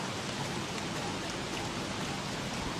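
A steady, dense hiss of rain pouring down during a downpour in the video game Don't Starve, even and continuous with no talk over it.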